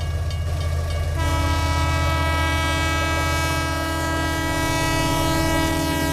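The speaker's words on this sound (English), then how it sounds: "when the train passed, he was gone" A train rolls past in a radio drama sound effect, its horn sounding a long sustained chord over the steady rumble and clatter of the cars, loud and continuous throughout.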